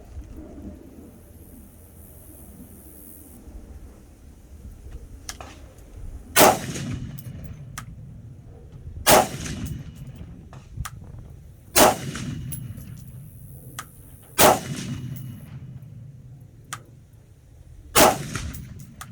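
An IWI Tavor X95 rifle fires five loud, sharp shots at an outdoor range, spaced roughly three seconds apart, each crack followed by a brief decaying echo over faint background noise.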